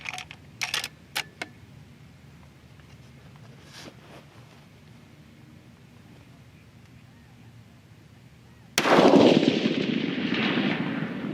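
Rifle firing a load-development test round with a 44.5-grain charge: a single sharp, loud report near the nine-second mark, preceded by faint clicks and handling noises on a quiet range.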